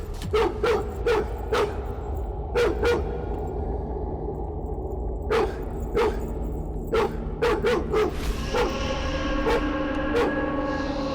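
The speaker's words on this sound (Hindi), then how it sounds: "आपको भी देखकर ये भौंक रहा है।" A dog named Mani barks repeatedly in short sharp bursts, grouped in quick runs with pauses between them, fairly close over a low background hum.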